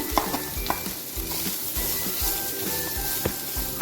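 Nuts, chopped raisins and grated coconut being stir-fried in a pan for elanji filling: a close, busy sizzle cut by repeated spatula scrapes and knocks in a quick, uneven rhythm, with no voices.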